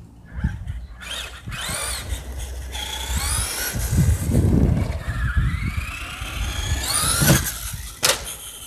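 A Traxxas Rustler RC car with its chassis raised runs and jumps, its small electric motor whining in rising and falling pitch sweeps, with tires scuffing and skidding on the ground and a sharp knock near the end.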